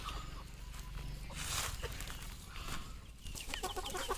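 Backyard free-range chickens clucking at a moderate distance, with scattered calls and some faint footsteps over steady outdoor background noise.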